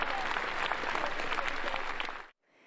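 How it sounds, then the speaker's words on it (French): Dense, sustained applause from a large crowd, loud and steady, then cutting off abruptly near the end, leaving faint room noise. "et des applaudissements à n'en plus finir"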